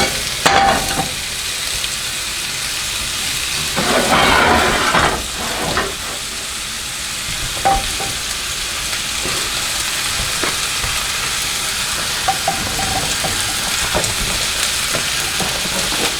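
Food fries in a pan with a steady, moderate sizzle that runs throughout. Louder bursts of hissing and occasional clinks break in along the way.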